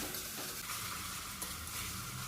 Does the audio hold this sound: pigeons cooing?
no